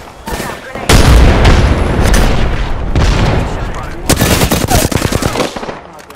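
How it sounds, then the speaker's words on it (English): Loud, rapid automatic gunfire from a battle in Apex Legends rips out in sustained bursts, joined by sharp single shots and booming impacts, with game voice lines heard over the shooting. "Getting shot at."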